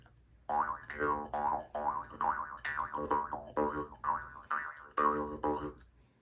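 A Mongolian Jew's harp twangs in a steady series of buzzy plucked notes, its tone bending and shifting as mouth shape and tongue movements change, close and alone.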